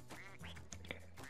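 A cartoon duck in the Wii U game Rayman Legends quacks in a few short nasal bursts over a steady low game-music drone, with no one talking.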